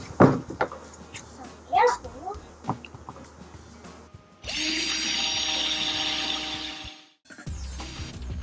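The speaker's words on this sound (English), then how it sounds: "First thing we're going to do is drill some air holes for them." A power drill bores air holes into a worm bin for vermicomposting, running as a steady loud whine for a few seconds after scattered handling clatter, then briefly again near the end.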